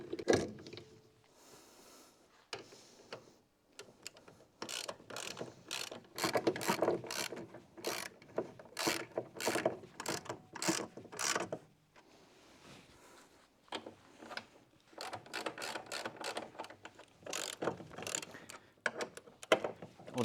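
Nuts being threaded onto a Volvo V70 (2008–2016) strut assembly: quick bursts of metallic ratcheting clicks, close and fairly crisp, separated by short quiet pauses.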